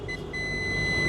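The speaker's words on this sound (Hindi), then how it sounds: "एक्चुअल में हमारा ये बीप मारना चाहिए क्या, बताओ, बीप मारना चाहिए क्या?" A multimeter in buzzer continuity mode, probing a shorted capacitor in a Samsung A12 phone, gives a steady high electronic beep that starts about a third of a second in and holds, over low background hum.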